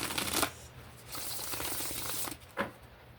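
Tarot cards being shuffled by hand: a quick riffling burst, then a longer stretch of soft flicking and sliding, and a final short snap of cards, close and fairly quiet with no talk.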